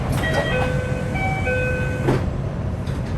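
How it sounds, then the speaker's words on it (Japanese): A Nankai train pulls away from Wakayamashi Station, its motor whining in steady rising and stepping tones over a continuous rumble of wheels and car body noise, close and fairly loud throughout. "和歌山市駅を発車。"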